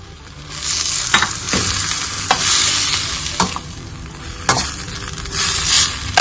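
Chunks of chicken with tomato sautéing in a pan for Hyderabadi chicken achari, a steady loud sizzle broken by sharp scraping stirs of a spoon at irregular intervals, close up and with no talking.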